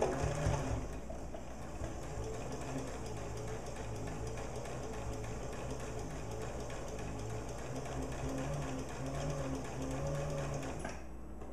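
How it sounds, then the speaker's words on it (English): A sewing machine runs steadily, stitching a single layer of fabric with a continuous close whirring hum and rapid needle rhythm, briefly pausing near the end, no voices. "I'm only sewing this one layer of fabric. Reverse stitch a few."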